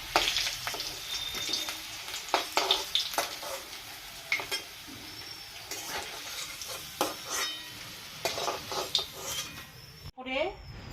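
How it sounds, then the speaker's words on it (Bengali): Dried red chillies and cumin seeds sizzling in hot oil for a Bengalee tempering, a steady hiss broken by sharp pops and utensil clinks, with a voice speaking nearby. "শুকনো লঙ্কা সম্বরা দিচ্ছি একটু জিরা দিয়ে দিলাম"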